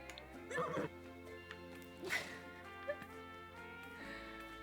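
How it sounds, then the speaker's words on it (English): A horse whinnying in The Sims video game, a short neigh near the start followed by fainter game sounds and a soft musical backdrop. "What a cute horse."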